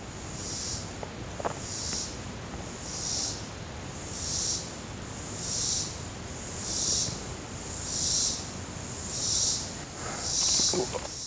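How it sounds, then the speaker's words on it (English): Crickets and cicadas buzz in loud, pulsing waves in Virginia woods, rising and falling roughly every second, a shrill chorus over faint background noise. "crickets can be like deafening, as we're hearing now"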